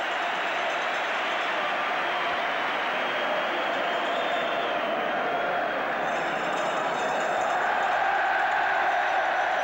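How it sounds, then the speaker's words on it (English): Football crowd at the 1975 League Cup Final between Aston Villa and Norwich City, a dense, continuous roar of massed voices in a stadium, swelling slightly toward the end; individual chanted words are not distinct. "crowd are shouting, "We want Saunders.""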